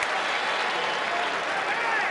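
Crowd applause at a college baseball game, LSU at Texas A&M in 2014, for player Nick Banks, with a standing ovation; steady, dense clapping from a large crowd fills the whole stretch without letting up.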